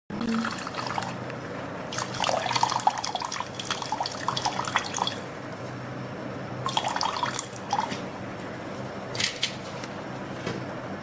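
Second coconut milk pours into a pan of banana payasam, making an uneven liquid splashing and trickling in several bursts over a low background hum, close and with no voices.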